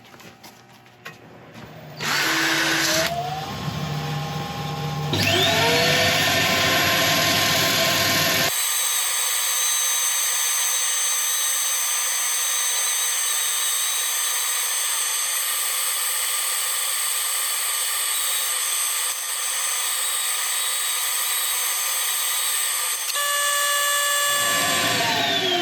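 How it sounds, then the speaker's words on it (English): A wood and epoxy resin Swedish torch log spinning on a lathe while being sanded, a loud steady whirring hum with a bright hiss that holds for about twenty seconds before winding down, with brief machine noise at the start. "Right, we'll start sanding."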